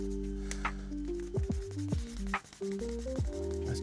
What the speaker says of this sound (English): Give it another little burnish.